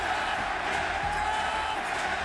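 Dense, steady roar of a large wrestling crowd at the Chase Center during an AEW match, a continuous wash of cheering noise with no distinct peaks across the whole stretch.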